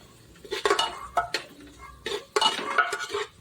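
A spoon scrapes and clinks against a metal cooking pot in several short bursts as crushed ginger and garlic paste goes in among cooked onions, close by and fairly loud.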